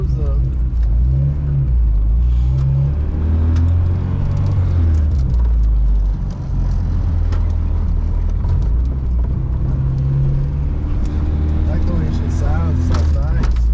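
Honda Civic engine drones and rumbles loudly from inside the car during a ride, rising and falling with revs, while occupants talk over it.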